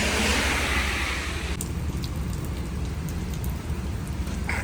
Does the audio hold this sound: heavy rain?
yes